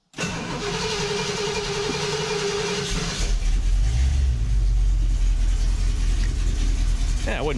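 A fresh Ford 460 V8 in a 1974 Camper Special truck cranks and catches, then settles into a low, rumbling idle that runs steadily and close, with faint talk in the background.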